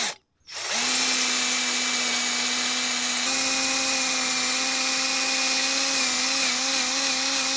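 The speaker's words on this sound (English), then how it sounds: "Always a bit of a scary thing using a drill on a car." A power drill runs continuously after a brief pause, drilling into an engine part on an R53 Mini Cooper S, a loud close whine holding a steady pitch with a slight shift partway through.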